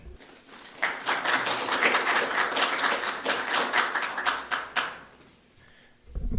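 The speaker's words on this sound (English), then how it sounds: "applause before I say anything" Audience applause at a Unitarian Universalist church service, a burst of steady clapping from the congregation lasting about four seconds before fading to quiet, with a faint voice briefly near the end.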